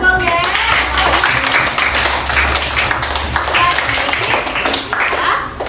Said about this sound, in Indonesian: Tepuk tangan untuk Gongge.